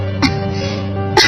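A single rough cough close by, followed by a low hum and a second cough starting near the end.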